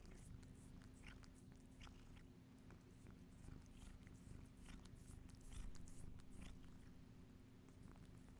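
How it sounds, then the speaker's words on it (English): A cat purrs steadily right next to a microphone while eating treats, with crunchy bites and chewing clicks over a low, continuous purr, close and intimate. "Like the best cat sound effects ever."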